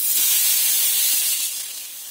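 Paneer frying in half a spoon of ghee in a kadai over a gas flame gives a steady, bright sizzle that holds loud and even, then eases slightly toward the end.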